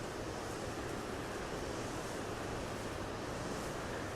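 Surf rolls in steadily at Snapper Rocks beach as a broad, constant wash of breaking ocean waves, fairly distant and even, with no voices.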